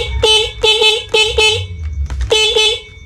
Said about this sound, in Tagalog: gumagana naman yung ating busina